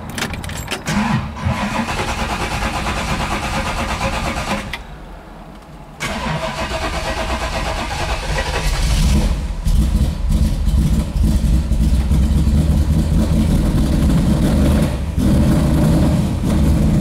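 A 1965 Pontiac GTO resto-mod fires up after a brief crank, then idles with a deep, steady rumble that swells into louder revs, heard up close with no talking.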